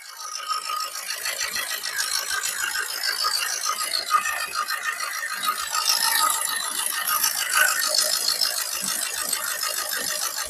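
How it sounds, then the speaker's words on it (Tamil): Steady, fast mechanical clatter of a Maruti Swift Dzire diesel car engine idling close by, running continuously without a break. "வண்டி இன்ஜின் ரூம் ரன்னிங்ல தான் இருக்கு"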